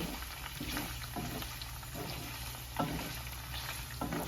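Chicken pieces fry in hot oil for chicken pickle, a dense continuous sizzle with the soft scrape and clatter of stirring breaking through at intervals.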